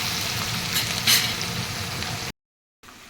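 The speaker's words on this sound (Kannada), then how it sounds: "ನೋಡಿ ಈಗ ಈರುಳ್ಳಿ ಫ್ರೈ ಆಗಿದೆ." Sliced onions fry in a pan for stuffed bitter gourd, a steady close sizzle with a couple of brighter hissing bursts as they are stirred, then a brief cutoff to silence before the sizzle returns faintly.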